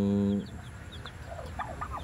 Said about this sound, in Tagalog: Halo-halo yan, pabo at saka manok.